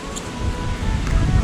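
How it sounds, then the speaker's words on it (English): Gusty wind buffets an outdoor microphone near a bee swarm, a steady low rumble with rising gusts throughout, no voices. "Really windy today."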